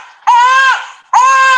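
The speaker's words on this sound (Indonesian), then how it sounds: "kalau adik-adik tahu ini adalah suara bayi" An infant cries in two loud, wailing bursts separated by a brief gasp, close and clear with no one speaking.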